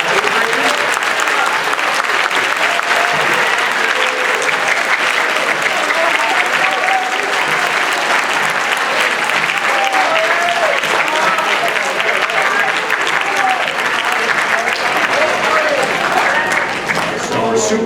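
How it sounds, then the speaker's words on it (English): A school concert audience applauds its 8th graders at a middle school spring concert, steady dense clapping from a large crowd filling the whole stretch, with faint voices mixed in. "Big round of applause for all of our 8th graders."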